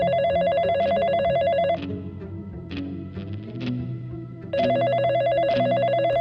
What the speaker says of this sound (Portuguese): E então, o telefone da polícia tocou.